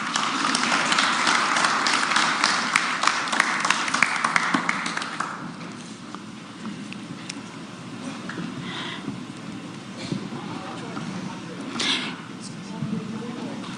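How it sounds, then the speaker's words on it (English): Audience applause at a live on-stage talk event, a dense burst of clapping that fills the first five seconds and then fades into room murmur and scattered claps. "Let's give him a round of applause, please."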